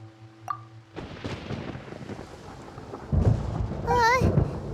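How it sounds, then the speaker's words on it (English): Thunder rumbles through a stormy scene in the Genshin Impact video game, a low rolling roar that swells louder toward the end, with a brief tonal game cue and a rising chime layered over it. "Paimon hears thunder!"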